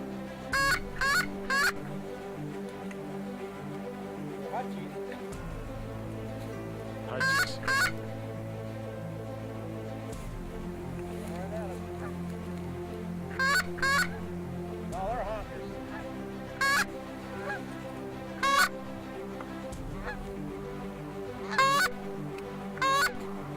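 A large flock of geese honking beside a field, bursts of loud overlapping honks recurring every few seconds over a steady low engine-like rumble, with occasional voices nearby.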